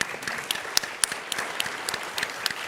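Audience applause at a startup pitch competition, steady dense clapping from a crowd with a few sharper individual claps standing out, moderately distant and continuous throughout.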